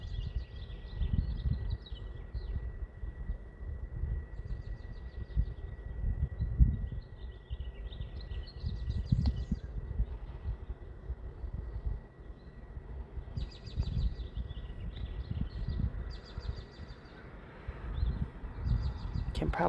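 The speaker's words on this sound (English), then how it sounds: "Can probably hear the birds in the background." Birds chirp outdoors in pleasant weather in short, repeated bursts of fairly faint calls over a low ambient rumble, continuing on and off throughout.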